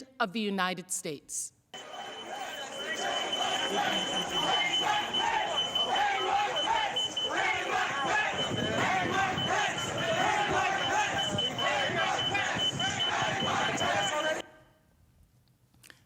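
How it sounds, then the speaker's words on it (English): A loud, steady security alarm tone rings from a door at the US Capitol while a mob chants and shouts in a dense roar beneath it, after a brief spoken phrase at the start. "You can hear the security alarm from the door in the background"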